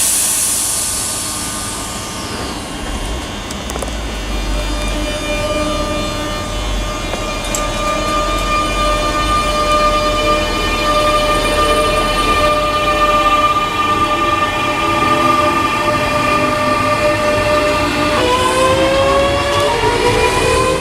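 Class 365 electric trains pull out of Linlithgow station, a steady loud rumble of traction motors and wheels on rail with rising whine tones, close and continuous throughout, with no talking.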